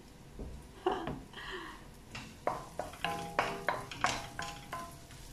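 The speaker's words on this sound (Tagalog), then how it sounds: "Muna gigisa natin yung sibuyas." Onion is sautéed in a pan as the first step of an Ilonggo arroz valenciana. A spatula stirs and scrapes in a run of distinct strokes over a soft sizzle, close and fairly quiet.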